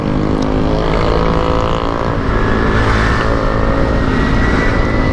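A Yamaha Mio scooter with a stock exhaust rides through the night, its engine and road noise a loud, steady drone that swells slightly as it holds speed, heard close and alone.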